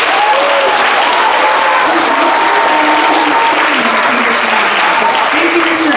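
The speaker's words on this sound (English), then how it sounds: "So a big round of applause to him." Loud, sustained audience applause at a wellness center ribbon cutting, many hands clapping continuously and close, with some cheering and crowd noise woven through.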